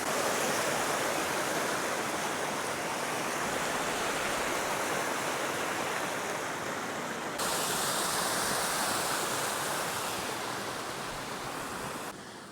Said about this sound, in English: Let's get some footage of this waterfall for all those waterfall fans out there.